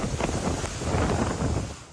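Strong typhoon wind roars with rain and crashing waves on a coast in the Philippines, a steady, loud broadband rush with no voices.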